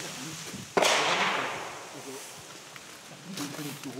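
Gunshot at a police shooting range during training, a single sharp loud crack with a decaying tail, then quieter range noise and people talking in German.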